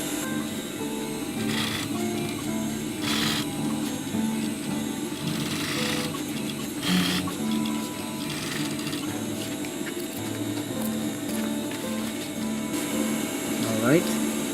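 A sewing machine stitches a roll-up pouch in short runs, its rapid mechanical whir starting and stopping several times at close range, with light handling clicks and a person speaking between bursts.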